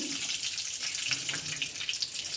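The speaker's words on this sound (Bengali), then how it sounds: "এই তেলের মধ্যে আমি একটু লঙ্কা ফোড়ন দিলাম, একটা তেজপাতা দিয়ে দিলাম" Dried red chilies and a bay leaf sizzle steadily in hot oil as a Bengali tempering for egg curry, a dense, continuous crackling hiss with small pops, close and fairly loud, with no talking.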